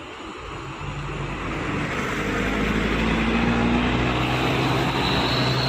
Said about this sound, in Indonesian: sekarang kita lanjut perjalanan teman-teman ya bersama bus Adiputra